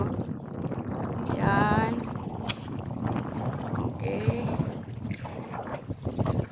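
A manually paddled, non-motorized boat moves across the sea near a beach at Sandingan, Loon, Bohol, giving a steady wash of water and wind, with a few brief spoken words.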